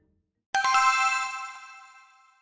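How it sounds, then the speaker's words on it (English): A phone rings once, a single clear electronic chime that starts sharply and slowly fades, alone in an otherwise silent room. "would you pick up the phone"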